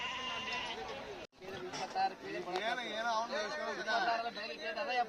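Sheep and goats bleat repeatedly and loudly, close by, at a Saturday-morning livestock market in Karnataka, with people chattering in the background.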